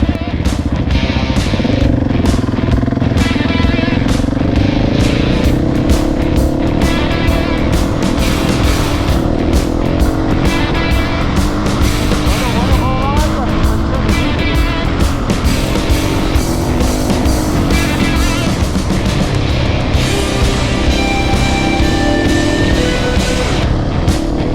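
A 701 motorcycle rides hard off-road on a Pyrenees trail in Andorra and Catalonia, its engine loud and close throughout, revving and surging with constant wind and gravel noise and no pauses.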